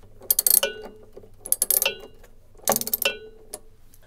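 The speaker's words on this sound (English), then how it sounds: "Then use your 10mm socket set to tighten the inner bolt." A 10mm socket ratchet tightens an inner bolt on a washing machine, producing three short bursts of quick metallic clicking, each lasting a fraction of a second, close and crisp against a quiet background.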